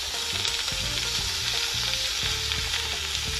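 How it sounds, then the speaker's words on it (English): Loud, continuous sizzling of spaghetti ingredients frying in a pan, with scraping and stirring noises mixed in, no voices. "That's sizzle."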